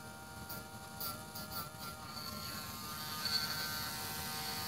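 Small rotary grinder buzzing steadily against a little piece of a slot car body during restoration, a close, continuous whine with slight rises and dips in pitch.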